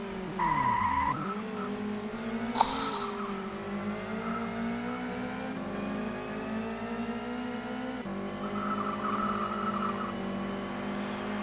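A race car in TOCA World Touring Car brakes hard with a short burst of tire squeal and skidding, then its engine drones on through gear changes at a steady, close level.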